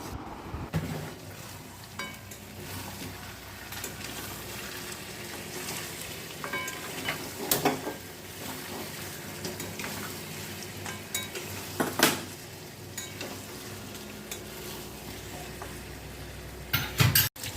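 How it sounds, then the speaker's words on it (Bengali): Whole garlic cloves and fried potatoes are stirred into a Bengali mutton curry in a pot, giving soft scraping and clinking spoon strokes over a low sizzle, with a few sharper knocks. "আলু আর রসুনটা দেওয়ার পরে কিছুক্ষণ নেড়ে চেড়ে আমি জল দিয়ে দেবো"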